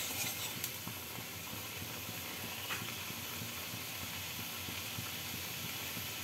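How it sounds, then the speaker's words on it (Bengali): Spice paste sizzles as it is fried in a pan for a Bengali pabda fish curry, a steady, even hiss that fills the whole stretch, close and moderate, with no voices. "তো মশলাটা ভালো করে কষানো হয়ে যাচ্ছে।"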